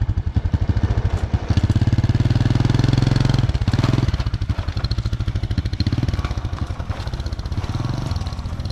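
A close-up motorcycle engine runs with a steady, rapid thumping pulse. It swells louder as it revs for a couple of seconds early on, then settles back into an even, throbbing idle-like chug.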